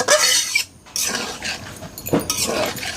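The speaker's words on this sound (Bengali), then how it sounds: "এখন ভালো করে নেড়ে চেড়ে" Mutton in a cooking pot is stirred vigorously, with metal utensil scrapes and clinks against the pot in close, uneven strokes and a short pause partway through.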